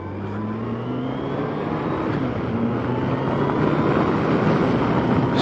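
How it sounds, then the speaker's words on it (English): A car driving on a windy day with a newly fitted clutch: a steady, loud engine drone with a faint rising tone, mixed with broad wind rumble throughout and no clear break between gears. "I can't believe the gear changing with a new clutch"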